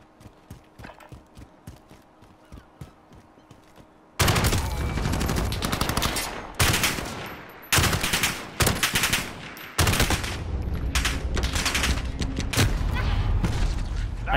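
Gunfire in Call of Duty Modern Warfare opens with quieter rapid shots, then loud automatic bursts follow, separated by brief gaps, close and dense.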